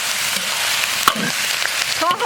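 Wild mushrooms and pork slices, seasoned with chopped red chili, salt, Sichuan pepper and a little dark soy sauce, sizzle loudly in a pan in a home kitchen, with steady frying hiss broken by scraping stirs of a spatula.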